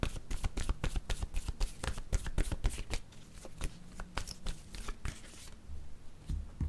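Playing cards from a card game are shuffled, handled and drawn close by, giving a rapid run of crisp flicking riffles, then a few slower slaps and slides, with no talking.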